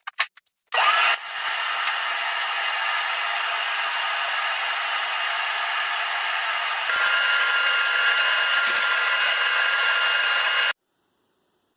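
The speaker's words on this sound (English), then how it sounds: "I'm going to go ahead and get the vacuum with the brush attachment, and I'll go ahead and clean up all the dust" A vacuum cleaner with a brush attachment runs steadily for about ten seconds, picking up sanding dust from house trim, loud and close, starting abruptly and cutting off at the end, with a slight rise in pitch midway.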